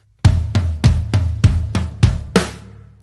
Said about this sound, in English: you're going to play the shot on the snare on the and a 4